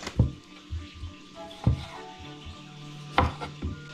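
A knife chops cherry tomatoes in half on a cutting board: three sharp, close board knocks, each followed by softer scraping and light handling sounds, with a faint low hum running beneath.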